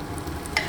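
Food frying in a pan gives a short, steady sizzle with a quick clink of a utensil near the end.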